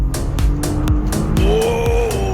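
A 2016 Audi A3 2.0 TFSI Quattro S-line in Sport Plus mode accelerates hard, the engine note rising through the revs with quick shift breaks, loud and close from inside the cabin.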